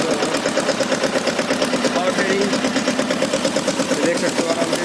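A Mahindra Jivo 225 tractor engine runs at a steady idle just after starting, a close, even mid-pitched diesel chug with a quick regular pulse that holds throughout, with no talk over it.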